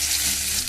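Cumin seeds and two dried red chillies sizzle in a little leftover potato-frying oil on reduced heat, a steady close hiss and crackle with no voices.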